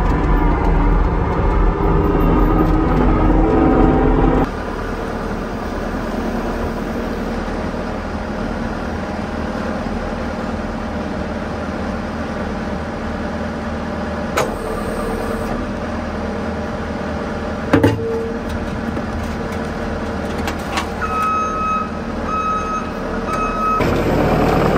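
A skid steer loader runs steadily on diesel outdoors, a constant engine drone with a repeating reversing beep over it; the engine dips briefly partway through and a sharp clank sounds near the middle.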